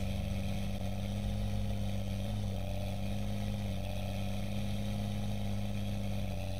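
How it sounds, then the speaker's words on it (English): Older-sounding 8 series tractor engine in Farming Simulator 2013, a steady low growling drone with constant harmonic hum, loud and continuous without speech. "That sounds like an older tractor rather than a new one."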